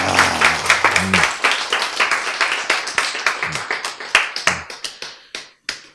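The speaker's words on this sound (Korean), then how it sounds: "박수." A few people clap in scattered, uneven bursts at a lecture, sharp close claps that thin out and stop near the end.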